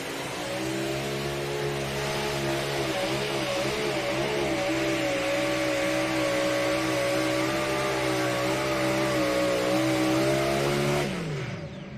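A pulling tractor at an NTPA Grand National tractor pull in Rockwell, Iowa, roars at full throttle, a dense, steady, loud engine drone that holds for about eleven seconds and then cuts off abruptly.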